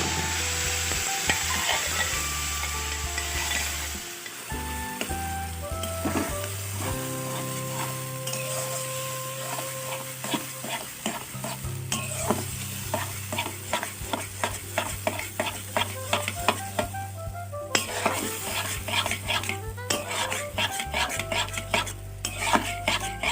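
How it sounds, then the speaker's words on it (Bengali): Hog plum pieces and a split dried chilli frying in mustard oil for a spicy chutney, a continuous sizzle under repeated clinking, scraping stirs of a utensil against the pan, growing busier toward the end. "তেলটা একটু গরম হয়ে এলে এর মধ্যে একটা শুকনো লঙ্কা চেলা করে দিয়ে দেব।"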